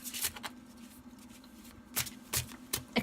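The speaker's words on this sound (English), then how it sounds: "most of the time I will casino shuffle them, or whatever you call it, like that to start with" Tarot cards being casino shuffled by hand, giving a few crisp riffling bursts at about 0.2, 2.0, 2.4 and 3.0 seconds over a steady low hum, close and fairly quiet.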